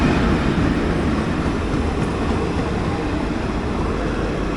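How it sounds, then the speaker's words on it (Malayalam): The Tirupati Rameswaram Express rolls into a station, a loud continuous rumble of wheels and carriages filling the whole stretch, steady and close without pauses. "അപ്പോൾ ആ കയറി വരുന്നതാണ് രാമേശ്വരം എക്സ്പ്രസ്, തിരുപ്പതി രാമേശ്വരം എക്സ്പ്രസ്."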